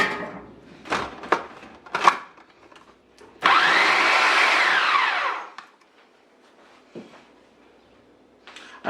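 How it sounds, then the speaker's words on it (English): A blender purees a green seasoning marinade in one loud, steady whirring burst of about two seconds, preceded by several short knocks and clatters of handling, with quiet thuds afterward and no talk. "basically all you want to do at this point here is to puree it"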